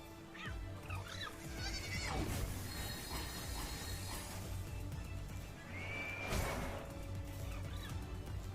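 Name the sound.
sheep creature bleating while attacking in video game Palworld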